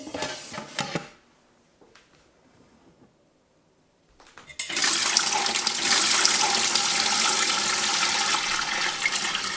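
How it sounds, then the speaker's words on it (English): Hot water gushes steadily into an electric pressure canner's bowl with a canning rack in the bottom, a loud continuous rushing that starts abruptly after a few quiet seconds of faint handling noise. "To get our canner prepared, we need to fill it with hot water to the line that's marked on the inside of the bowl."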